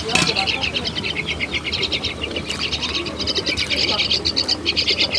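Pigeons in a loft chirp and call in dense, overlapping bursts, with a steady chattering bird din close by and a voice talking faintly underneath.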